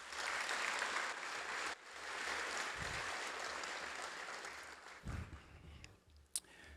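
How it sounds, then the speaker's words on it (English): A convention audience at the Native Hawaiian Convention bursts into sustained applause, a dense wash of many hands clapping that carries on for several seconds and then thins out into scattered claps near the end. "if we can all give them a round of applause"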